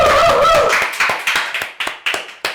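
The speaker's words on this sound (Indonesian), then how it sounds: "Tepuk tangan dulu dong untuk Caca" On a podcast set, a voice trails off and then a small group claps, about ten distinct, crisp claps in an uneven rhythm, close and loud with brief silences between them.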